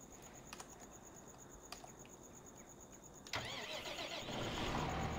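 In the farming game Landwirtschafts-Simulator 15, a tractor engine starts abruptly partway through, after a quiet stretch of chirping crickets and faint clicks, then settles into a steady idle.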